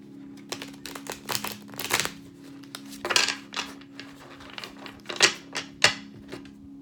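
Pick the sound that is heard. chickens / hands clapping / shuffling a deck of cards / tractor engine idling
shuffling a deck of cards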